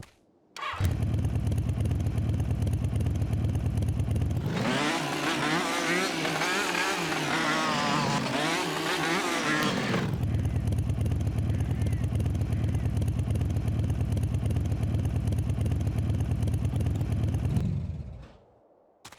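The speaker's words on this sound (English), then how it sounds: "In some areas, you could even use an ATV." Engine of an ATV in the hunting video game Dangerous Hunts 2, a loud steady motor drone that rises into a higher revving whine midway, then settles back to a constant hum before cutting off.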